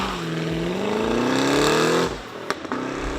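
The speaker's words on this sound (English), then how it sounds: "It's got these unique patented exhaust tips on it that crackles and burbles on the overrun." Holden SS with a 6.2-litre V8 roars under load with a rising, steady exhaust note, then lifts off into the overrun, where sharp crackles and pops sound from the exhaust tips, fairly close and loud.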